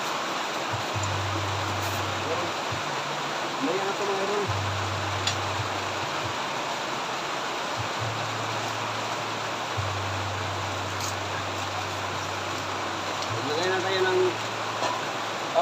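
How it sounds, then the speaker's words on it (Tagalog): Broadband hiss like heavy rain pours steadily throughout, with a low hum and faint voices underneath, during outdoor cooking. "Mas malakas yung ulan natin"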